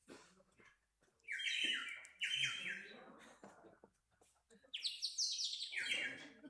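A handheld instrument imitating bird song, played in a church during a Sunday morning service: three bursts of bright, warbling chirps with quiet gaps between them, with faint room noise in the background.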